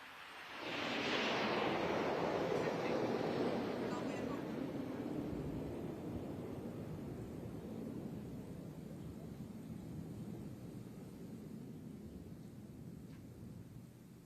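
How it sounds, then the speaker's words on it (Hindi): Hawk training fighter jets fly past during a parade flypast, a long, loud roaring swell that peaks early and then slowly fades into a broad rumbling wash over many seconds. "और अब बारी है प्रशिक्षण के लिए उपयोग में लाए जाने वाले हॉक लड़ाकू विमानों की।"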